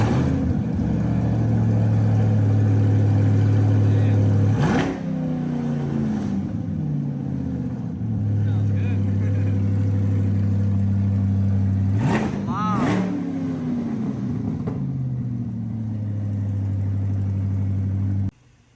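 A C8 Corvette Stingray with a 6.2L V8 and straight pipes with no exhaust besides the cats fires up with a sharp bark and settles into a loud, deep idle, then blips twice in quick succession before dropping back to a burbling idle.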